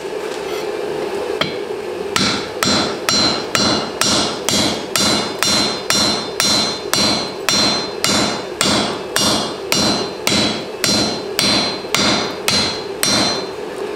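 A blacksmith flattening rebar tongs on an anvil, with about twenty-five evenly spaced ringing hammer blows in a steady rhythm, loud and close, with no talking.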